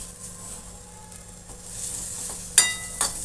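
Pointed gourd (potol) fries in a pan with a soft, steady sizzle close by, with a couple of sharp clinks of a utensil near the end and no talking.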